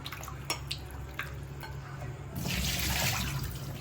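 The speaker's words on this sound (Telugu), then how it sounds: "ఇంకొకసారి ఒక రెండు సార్లు చల్లటి వాటర్తో కూడా కడిగేసి ఆ నీళ్ళు కూడా నీసు నీళ్ళు పోయేదాకా మనం కడుక్కుందాము" Fish being washed under running cold water in a kitchen sink, with light splashes and drips followed by a steadier, louder gush of water near the end, and no voices.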